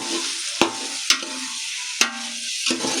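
Biryani masala frying in a pan, a steady hiss of sizzling oil broken by three or four sharp scrapes and knocks of a stirring spoon.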